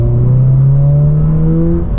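A 2022 Subaru BRZ fitted with an MST cold air intake holds a loud, steady engine drone from inside the cabin, its pitch rising slightly as the revs climb.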